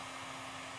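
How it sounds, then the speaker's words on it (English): A heat shrink gun blows hot air onto shrink tubing over a crimped terminal, giving a steady, close, loud blower roar with a constant whine and no variation. "I'm going to turn the shrink gun on."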